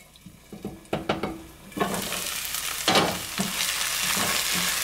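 Onions and tomato paste cooking in a pan for chana masala, a close steady sizzle and frying hiss with a few clinks and stirring scrapes near the start, growing fuller and constant over the second half, with no voices.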